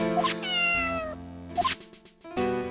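Video game cat meowing, several drawn-out tonal meows separated by short gaps, loud and up close with no voices.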